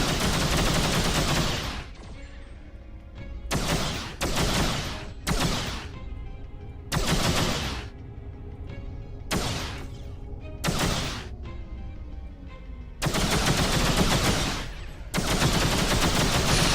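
Ships trade rapid weapon fire in the space game X3: Terran Conflict, with loud bursts of gunfire in repeated volleys and short gaps of engine hum between them.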